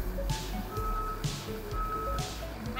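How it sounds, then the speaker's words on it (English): A street sweeper's pickup broom spins beneath steady truck engine rumble, with repeated reversing beeps sounding through the continuous mechanical noise. "So right now you hear the pickup broom spinning"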